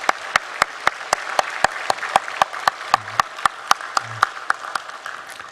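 A church congregation bursts into steady applause, many hands clapping together in a sustained, even wash of sound that fades slightly toward the end.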